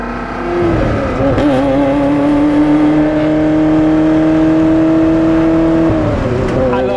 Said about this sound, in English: that exhaust sound, definitely one of my favorite things